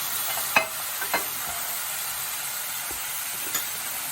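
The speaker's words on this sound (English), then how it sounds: "You put the tofu scramble in" Tofu scramble sizzling in a pan, a steady low frying hiss broken by a few sharp clicks of a utensil against the pan, close up with no talking.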